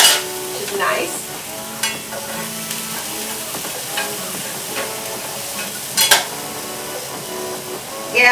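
Organic capers fry and start to char in a hot pan, a steady crackling sizzle with occasional sharp pops and spoon scrapes, close and fairly loud.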